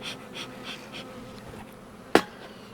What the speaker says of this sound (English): Looks like we got a good bit of bees in here.